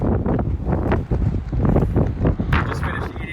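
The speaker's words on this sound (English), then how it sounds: "It's so windy out here, guys." Strong outdoor wind at Lake Easton buffets the microphone in rough, uneven gusts of low rumble, with a person talking underneath.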